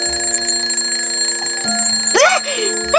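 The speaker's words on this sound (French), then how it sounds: "Ah, merci du réveil, Mama Luna." An alarm clock rings loudly and close in a wake-up scene, with sharp, repeated bright chiming bursts over a steady background tone.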